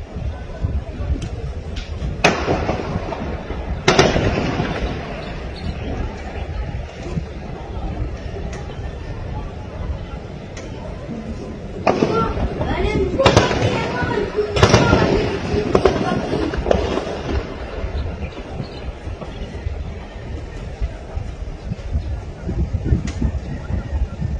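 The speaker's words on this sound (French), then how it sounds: "Il y a du feu là-bas, regarde. Ils sont en train de tirer." Gunfire near a roundabout during a coup d'État: sharp, loud reports crack out in scattered bursts, some in quick clusters, echoing over a noisy outdoor background with people talking.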